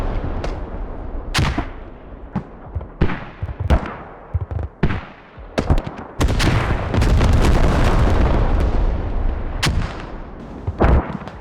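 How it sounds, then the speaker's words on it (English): Artillery fire and explosions in a multiplayer war video game: a string of heavy, sharp booms at irregular intervals, then a long rumbling barrage of overlapping blasts, loud and close. "Enemy artillery on Ham Farm."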